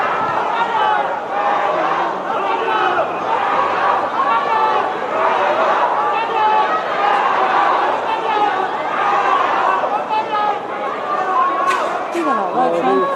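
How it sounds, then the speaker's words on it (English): Dense crowd chatter outside a Hong Kong court as Lai Chee-ying emerges, many voices overlapping with scattered laughter and calls, steady and loud throughout. "And that's another crowd with Lei Choi-yan coming out."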